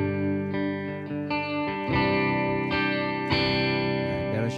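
Electric guitar through an M-Vave Tank G patch with slight overdrive and mild break-up: a run of strummed chords and picked notes, gritty yet fairly clean, played continuously and up close.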